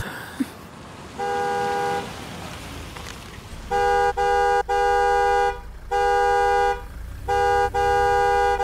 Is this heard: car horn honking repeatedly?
yes